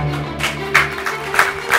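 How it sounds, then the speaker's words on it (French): Audience clapping at a school quiz show, breaking out in short bursts over a steady hum of the hall, moderately loud and fairly close. "qu'on peut applaudir"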